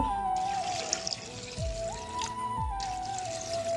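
Water poured into a cooking pot of dried-fish curry seasoned with chilli and salt, a short trickling pour close by under a faint tonal hum, no speech.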